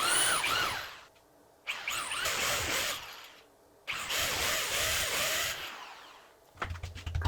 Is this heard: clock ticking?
no